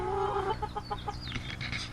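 Backyard chickens in sandy dirt cluck and chatter nearby in a quick run of short, rising calls over a low background rumble, with no talking.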